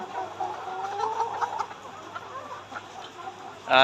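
Caged layer hens on a poultry farm cluck and murmur softly at close range, with a sharper louder squawk bursting out at the very end.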